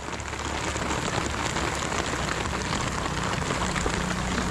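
Heavy rain pours steadily during the cold, wet northeast monsoon season, a dense continuous hiss of drops drumming on surfaces close by, with no voices.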